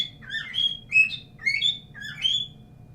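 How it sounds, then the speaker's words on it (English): Close, clear bird chirps come in about four quick bursts of high tweets and trills. A faint low hum sits underneath and no one speaks. "Shut up, bird."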